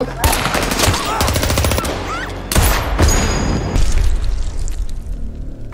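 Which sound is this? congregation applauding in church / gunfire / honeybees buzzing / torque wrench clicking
gunfire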